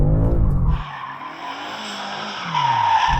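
A car switched into two-wheel drive slides with its tires skidding and squealing loudly. Engine roar comes first, then a long sustained squeal, and the engine surges back in at the end.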